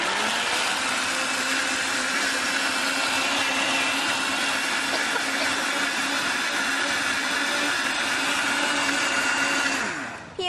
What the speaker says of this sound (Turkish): Ve şimdi blenderdan geçiriyoruz.